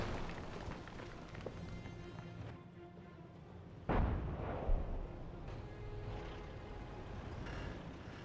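Self-propelled artillery fires in a Company of Heroes match, a single heavy boom landing midway over a steady low rumble of battle noise, with no talk during the shot.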